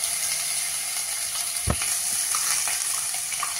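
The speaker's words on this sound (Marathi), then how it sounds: "आता या तेलामध्ये आपल्याला हा मसाला घालायचा आहे आणि तो चांगला परतायचा आहे" Masala paste frying in oil for a red-gravy fresh green peas usal, a steady close sizzle with a brief stirring scrape partway through and no talking.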